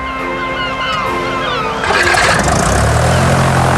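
In a cartoon, an engine cranks and catches, a loud broadband rumbling roar with a deep low drone that cuts in about halfway through, following a stretch of tonal music and voices.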